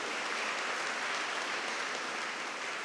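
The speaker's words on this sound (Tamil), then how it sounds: "நம்முடைய கைத்தட்டல் மூலம் பாராட்டுகளை தெரிவித்துக் கொள்வோம்" Audience applause at a Tamil public event honouring two sports achievers, a dense steady clatter of many hands clapping continuously and fairly loud throughout.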